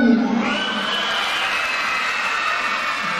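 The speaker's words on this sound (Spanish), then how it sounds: "Vamos a gritar todos, que viva la paz para Colombia." A crowd of children at a Children's Day celebration in the rural village of La Virginia, Colombia, shouts and cheers together for peace, one sustained loud group cry with whoops, close and filling the space.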